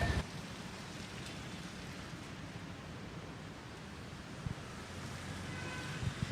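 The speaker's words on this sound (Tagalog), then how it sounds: "yung mahinang pag-ulan na lamang yung nararanasan natin" Light rain falls on a flooded street in Quezon City, a soft, steady hiss of drops with no speech and a few faint bumps near the end.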